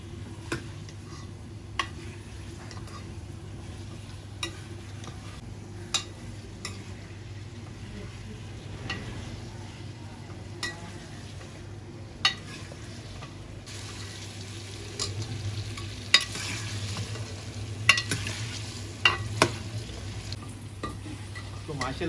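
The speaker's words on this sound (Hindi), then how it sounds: "आलूओं को हमने बहुत ही अच्छे से फ्राई कर लिया है।" Potatoes for aloo gosht fry in a pot, a faint steady sizzle over a low hum, with scattered clicks from stirring.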